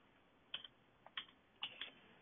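Keys clack on a computer keyboard in a quiet room, a few soft, close keystrokes in small clusters.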